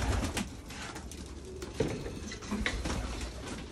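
Racing pigeon hen, a Morris Gordon velvet, cooing in a loft: soft, repeated throaty coos at close range over a busy background of other birds and light patter, with no talk.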